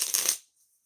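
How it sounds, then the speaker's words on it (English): Playing cards being gathered up in a brief, close flurry of papery shuffling and sliding that fades to quiet within half a second. "pick all these cards up now."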